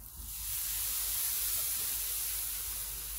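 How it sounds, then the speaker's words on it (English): Hash browns sizzle on a hot Blackstone griddle, a steady, close hiss of frying that holds evenly throughout with no one speaking. "Just love the way that sizzles."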